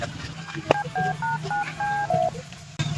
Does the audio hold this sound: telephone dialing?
yes